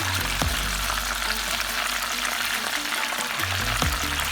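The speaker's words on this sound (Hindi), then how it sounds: "सबसे पहले गरम तेल में चिकन को दरमियानी आंच पर 1 मिनट पकाएं" Chicken pieces deep frying in hot oil over medium heat, a steady close crackling sizzle with occasional louder pops and bubbling throughout, no talking.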